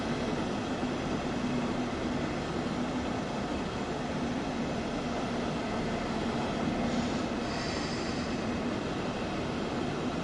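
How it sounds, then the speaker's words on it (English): Train braking in the Train Sim World 2 game on PS5, on the Finnentrop to Hagen route, a steady dense rumble and hiss of a train slowing, continuous and alone without talk. "Quite effective braking on the train."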